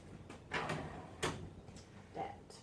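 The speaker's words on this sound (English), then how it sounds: "shut the drawer on that one" A toolbox drawer is pushed shut. A few short sliding thuds and rattles sound close by at moderate volume, spaced across a quiet background.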